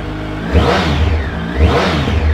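2005 Yamaha R1 superbike with 11,260 miles, its engine running loud and close with two sharp revs rising and falling over a rough idle, no voices.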